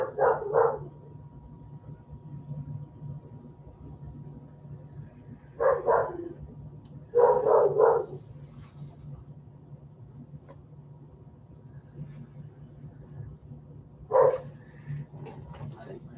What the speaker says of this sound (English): She won't quit barking until I let her out.